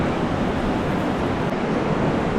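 An underground river rushes and rises fast inside the world's largest cave, a dense, steady roar of water that fills the space without a break.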